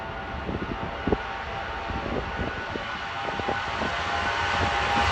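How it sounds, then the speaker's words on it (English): Cardinals charter jet passing overhead, a broad steady engine roar that swells slightly as it continues, with faint background sounds and no voices. "The freaking Cardinals charter plane."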